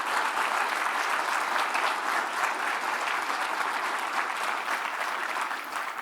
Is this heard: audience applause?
yes